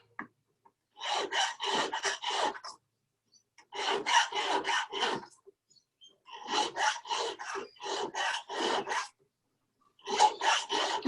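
A sanding stick rasps back and forth across a raw metal casting in short rhythmic bursts of four to six strokes, with brief pauses between groups, close and crisp with no voices.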